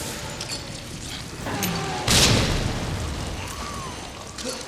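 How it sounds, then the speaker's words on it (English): Grenade blasts from the Resident Evil 2 Remake video game: one loud broadband boom lands about two seconds in and decays over a second, set against a steady rumble of game ambience and softer bursts. "Let's just throw some grenades at him"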